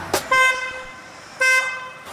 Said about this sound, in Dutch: Begint hij in één keer te toeteren.